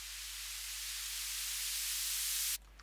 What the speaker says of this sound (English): With lots of reverb and white noise that is panning around.